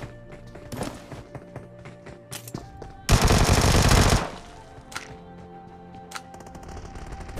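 Gunfire in the video game PUBG, with scattered single shots, a sustained loud automatic burst around the middle, and a few more sharp shots after it.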